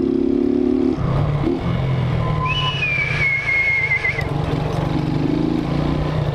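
A motorcycle's front brake squeals in a high, wavering tone for a couple of seconds as a delivery rider slows in town traffic, set over a steady engine drone and road noise, with a brief shorter squeak just before.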